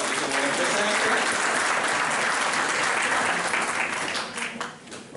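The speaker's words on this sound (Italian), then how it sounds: "Facciamo un applauso, anche se non è presente." Loud audience applause at an Italian nativity-scene awards ceremony in Fasano, dense clapping that holds steady before tapering off near the end.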